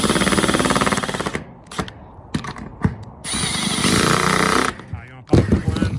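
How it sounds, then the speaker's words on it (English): Power drill driving a screw into a metal standing seam roof panel during curved roof installation, with loud sustained whirring bursts separated by short clanks and handling noises. "I'm just angling the screw just slightly, just so that top of the drill doesn't hit the leg of the panel"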